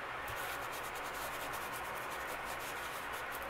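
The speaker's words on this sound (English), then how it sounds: "So just rub it real good, and it just takes that black off of there." Faint, steady rubbing as a craft surface is scrubbed by hand to lift black paint off, a soft continuous friction sound with no voices.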